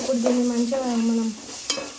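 Ginger with a pinch of salt being stirred in a hot cooking pan, a scraping stir over soft sizzling that runs for a couple of seconds, with a short sharper scrape near the end.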